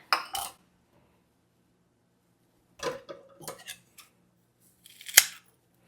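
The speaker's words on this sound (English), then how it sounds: "Let me cut this over a bowl and then I can take the rest outside." Scissors snip through a plant piece and its soil over a bowl: a few short, close crunching cuts in separate clusters, with quiet gaps between, and no voices.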